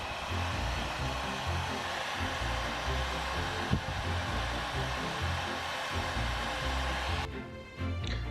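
A heat gun blows a steady, loud, broadband hot-air roar across the top of a tie dye candle, running continuously before a brief shift in tone near the end.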